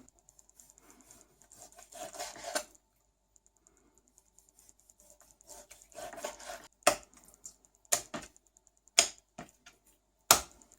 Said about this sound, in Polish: mięso pokroimy na plaster i rozbijemy tłuczkiem